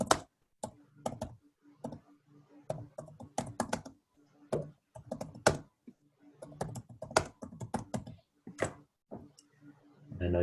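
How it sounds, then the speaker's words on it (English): Keys clatter on a computer keyboard in quick irregular bursts with short gaps, close and fairly quiet, each tap crisp and distinct. "So I'm just going to type in."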